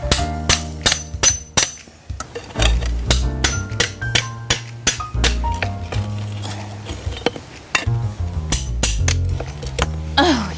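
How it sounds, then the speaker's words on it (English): Metallic banging and clanking as a hammer strikes a Wonder Bar pry bar, with sharp repeated hits, scraping, and creaking of material being worked loose, close by. "we're going to have to take the old hammer and a Wonder Bar"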